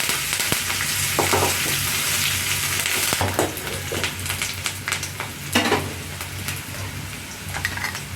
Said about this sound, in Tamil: நான் வெங்காயம் போட்டு முதல்ல வதக்குறோம்